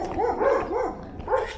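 A dog barks in a quick series of about four close, mid-pitched barks at an abandoned ghost village in Curitiba, the barks bunched together with a short gap before the last.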